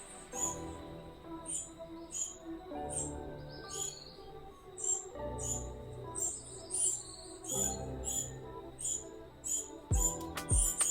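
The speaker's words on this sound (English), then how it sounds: "Ooh, and the birds are chirping." Birds chirping outdoors, heard as repeated bright, short high calls scattered through the whole stretch over a steady low background hum, moderately close and fairly loud, with no talking.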